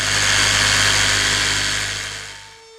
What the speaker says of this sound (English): I then, as I say, connect the dots with the jigsaw.